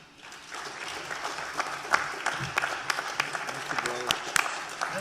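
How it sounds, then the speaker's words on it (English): An audience at a 2019 school board candidate forum breaks into applause, claps swelling from quiet into a dense, lively patter with sharp individual hand strikes. "Please give one more round of applause for all of our candidates that joined us"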